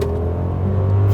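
A Mercedes-Maybach S-Class accelerating under pressed throttle: a steady, smooth low engine drone, close and fairly loud, rising slightly in pitch toward the end, with no voices.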